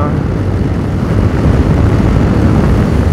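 A 2022 Yamaha Tracer 7 GT motorcycle with a two-cylinder engine accelerates through a corner, a loud, steady engine drone mixed with rushing wind.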